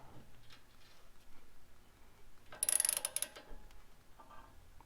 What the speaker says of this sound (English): then we'll tighten up to spec with a wrench